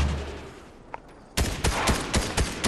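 Gunfire erupts in a Fortnite match as two players fight, a rapid run of sharp, loud shots after a quiet opening with one faint tone. The volleys come in quick, uneven bursts.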